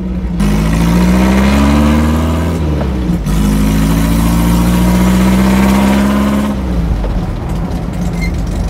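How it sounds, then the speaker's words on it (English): A loud modified car exhaust roars close by on a hot day, the engine revving up, holding a deep rumble, then easing back toward idle. "That exhaust, so loud"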